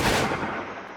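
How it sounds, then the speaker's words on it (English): A single loud gunshot fired in a video game shooting range, a sharp broadband blast up front that rolls off into a decaying rumble and tail over about a second, with no voices. "Sorry if that gun's a bit loud."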